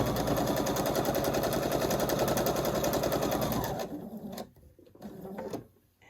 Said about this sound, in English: I'm simply going to sew down the length of this piece.